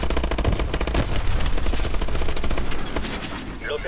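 Rapid automatic gunfire in Call of Duty: Advanced Warfare, dense continuous bursts of shots loud and close throughout, with no pause.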